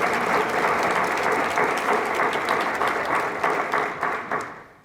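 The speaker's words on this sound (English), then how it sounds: "Let's give ourselves a big round of applause." Audience applause at a morning partnership meeting with a city mayor, a dense sustained round of clapping from a crowd that holds steady for several seconds, then fades out at the end.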